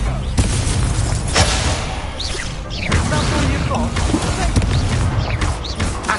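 Booming blasts of the Confringo explosion spell burst repeatedly amid combat in Hogwarts Legacy, loud and close, mixed with crashing impacts while voices speak over the action.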